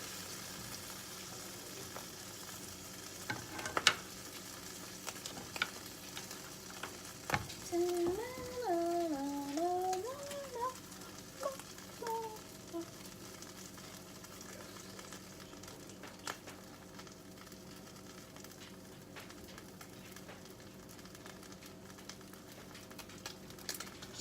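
Squirrel meat fries in a pan with a soft, continuous sizzle and crackle, punctuated by occasional clinks and scraping, and a brief whistling tone partway through.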